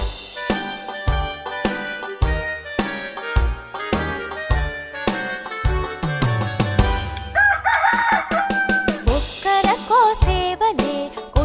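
A rooster crows in a Tamil children's rhyme, the cock-a-doodle-doo heard over a bouncy, percussive backing track with rising and falling tones near the end.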